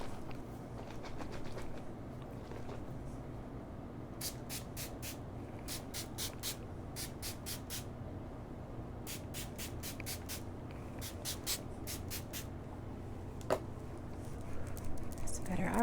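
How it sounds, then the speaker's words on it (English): Makeup setting spray misted onto a face in a series of quick bursts, grouped in threes and fours, faint and close over a low background hum. "So I'm gonna go ahead and spray my face."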